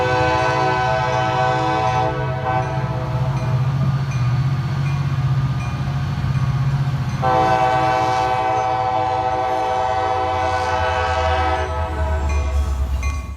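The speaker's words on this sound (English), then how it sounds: "Then CSX Y295-18 crawls across West Gasparilla Street and then onto the drawbridge." CSX freight train Y295-18, led by GP40-2 No. 6024 with a Nathan K5LA horn, crawls across West Gasparilla Street onto a drawbridge near Tampa, Florida. The horn sounds loud and close in two long blasts over a steady rumble of the train.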